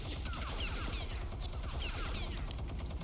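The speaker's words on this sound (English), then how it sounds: "I will punch Bane into the path of the gunfire." Rapid automatic gunfire in the Suicide Squad video game, a dense continuous barrage of overlapping shots and impacts filling the whole stretch at steady loudness.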